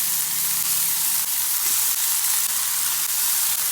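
Bitter gourd slices fry slowly on a dosa griddle, giving a steady, even sizzle and hiss that holds throughout with no voices.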